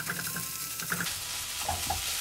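Ground meat sizzling and crackling in a hot pan as it goes in for oriental-style red spaghetti, with a steady fry, a few sharp pops and stirring scrapes, close and moderately loud.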